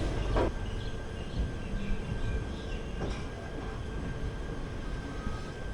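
The Velankanni–Karaikal DEMU train sits at the station with a steady diesel rumble and hum, a couple of brief metallic clanks, and no talking.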